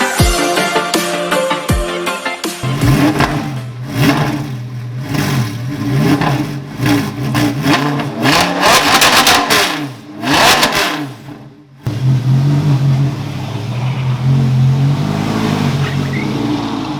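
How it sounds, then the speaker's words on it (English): A car engine revs repeatedly through its exhaust, loud rising and falling bursts, then settles into a rough, throaty idle near the microphone. "Checking your exhaust."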